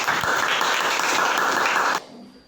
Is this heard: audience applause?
yes